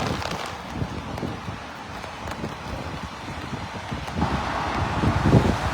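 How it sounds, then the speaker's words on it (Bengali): Cold wind gusts outdoors in Canada on a rainy day, a steady broadband rushing with buffeting against the microphone that swells slightly toward the end, with no talking. "আজকের বাতাসটা প্রচুর ঠান্ডা"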